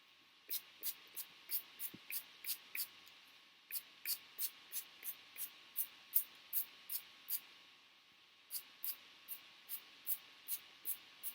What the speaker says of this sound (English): Spray it everywhere.